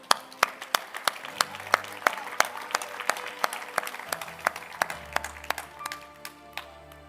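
A church congregation claps during a worship service, with sharp, uneven individual claps repeating throughout rather than a dense wash of applause, while a low sustained musical tone runs underneath.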